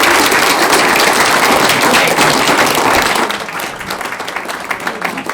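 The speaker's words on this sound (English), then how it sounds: "Great big round of applause for this." An audience at a school board of education regular meeting breaks into loud, dense applause that holds steady, then thins out into scattered claps as it winds down.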